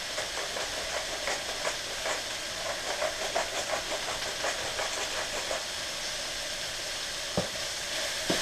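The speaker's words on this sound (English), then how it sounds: "I've had my meat frying on the stove here with the onions and the garlic and the tomatoes for about 5 minutes." Ground turkey fries on a stovetop with onions, garlic and tomatoes, giving a steady, dense sizzle and hiss with small crackling pops throughout and no talking.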